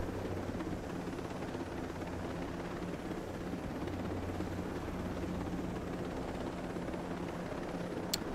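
Helicopter in the game Ghost Recon Breakpoint, a steady, moderately loud rotor drone with even chopping texture holding for the whole stretch, no voices over it.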